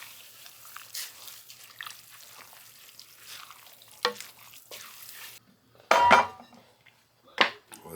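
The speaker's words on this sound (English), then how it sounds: "Let's stir that in." Instant rice is stirred into a Dutch oven with the heat off, soft scraping and a faint sizzle giving way to a couple of loud metallic clanks of utensil against pot.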